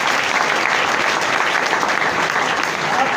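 Steady, loud applause from a crowd at a public speaking event, continuous clapping holding at an even level throughout without a break.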